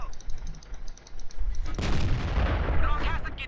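Tank cannon fire in the World of Tanks video game: a heavy boom erupts midway and rolls into a dense, sustained rumble, following a stretch of game noise and faint beeping tones.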